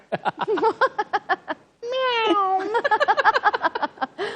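A quick string of short meows in steady rhythm, broken by one long drawn-out wavering meow, then more rapid meowing, close and clear.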